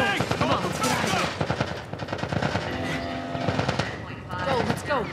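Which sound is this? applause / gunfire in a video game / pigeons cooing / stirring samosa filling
gunfire in a video game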